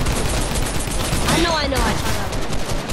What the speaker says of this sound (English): it has all purple weapons in it if you just keep shooting it